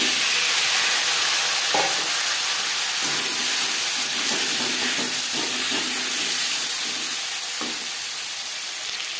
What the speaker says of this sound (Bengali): মাছ ভেজে নেওয়া তেলে দিয়ে দিলাম 5 ফোড়ন